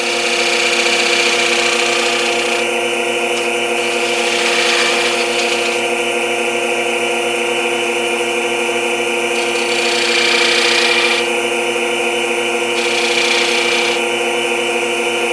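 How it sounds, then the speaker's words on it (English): A wood lathe whirs steadily at constant speed while turning a bowl, with a bright scraping tone coming and going as a detail gouge touches the spinning piece. "Now I'm going to come in with my detail gouge and just kind of dress that bead out"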